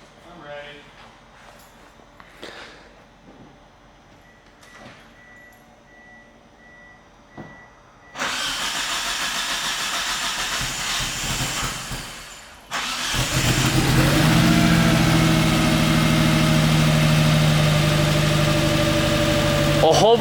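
An Eagle Talon engine starting up after a downpipe install: quiet clicks and reversing beeps at first, then a loud start around eight seconds, a pause, and a second start that settles into a steady, loud idle.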